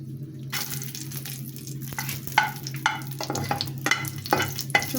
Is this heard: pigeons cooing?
no